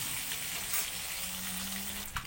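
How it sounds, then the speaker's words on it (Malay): An egg sizzles steadily in hot oil in a pan, a continuous crackling fry heard alone at close range. "Kita goreng ni sampai dia agak sedikit ada garing-garing lah ya."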